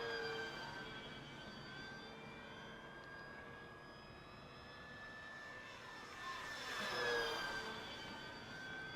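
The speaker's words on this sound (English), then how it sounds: "This is a World War II Mustang P51, and then also it's a tail dragger." A radio-controlled World War II P-51 Mustang tail-dragger model plane whines steadily overhead, its engine tone swelling to a louder pass near the end before easing off, with no talk.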